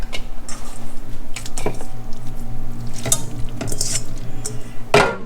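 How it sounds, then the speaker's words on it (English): Tripe for Vietnamese pho going into a cooking pot, heard as loud, close clanks and scrapes of metal utensils against the pot over a steady low background hum, with no talking. "So I'm just gonna put this in the pot, all of the tripe"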